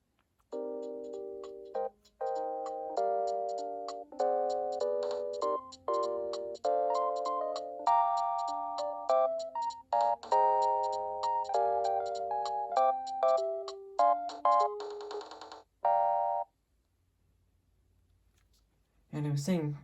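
A Panasonic KX-TG6841 cordless phone plays a melodic electronic ringtone, a bright run of clean, stepped notes repeating for about sixteen seconds before stopping into near silence, followed by a brief burst of noise at the very end.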